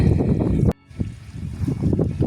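Strong wind buffets the microphone in heavy low rumbling gusts, cutting out briefly before the roaring resumes.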